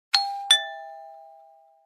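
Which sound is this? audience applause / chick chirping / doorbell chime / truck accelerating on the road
doorbell chime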